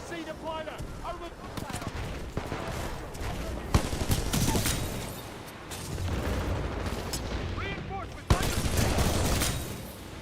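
Heavy gunfire in the Star Citizen space game, with dense bursts and sharp booming shots rolling continuously across a combat scene, loud and close, with a couple of standout impacts.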